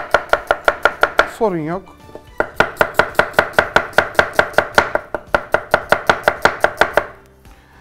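A knife chops vegetables quickly and rhythmically on a cutting board, loud and close, pausing briefly as a voice speaks a few words of Turkish midway.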